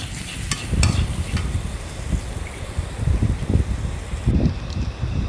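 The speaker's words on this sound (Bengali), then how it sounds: "পেঁয়াজ কাঁচামরচ একটু বরবটি কিছুক্ষণ ভেজে তারপরে ডিম দিয়ে দিলাম ডিমটা একটু ভাজলাম" Egg frying in a pan with onion, green chili and long beans for homemade noodles, soft sizzling under repeated stirring and scraping knocks, fairly quiet and close.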